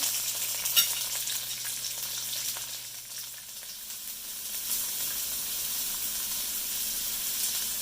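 Mushroom and onion stir-fry in a hot pan with a continuous bright sizzle, close and steady, with a brief clink near the start and slight swells as the vegetables are stirred; no voices.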